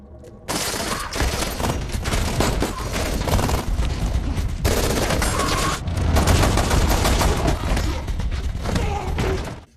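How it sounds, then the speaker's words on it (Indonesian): Heavy gunfight gunfire in a film: dense, continuous bursts of automatic fire and shots, loud and sustained for nearly ten seconds with brief gaps, and no talk. "Di sini adu tembak antara Miguel dan Antek Gomez pun tak terhindarkan."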